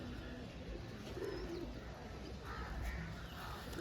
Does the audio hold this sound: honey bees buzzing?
no